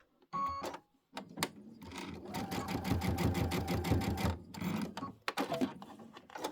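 A sewing machine runs in close, steady bursts as quilt pinwheel pieces are stitched together at a quarter-inch seam, starting and stopping with brief clicks and handling sounds between runs.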